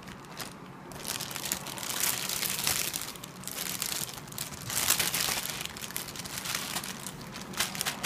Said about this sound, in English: put it in a Ziploc bag